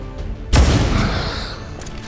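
A single sharp gunshot in the video game XCOM 2 cracks out loud and close, then trails off into a rumbling decay with faint background game sounds.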